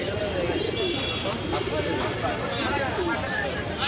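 Pigeons coo at a crowded weekly open-air pigeon market, with low burbling calls that repeat under a steady hubbub of people talking nearby.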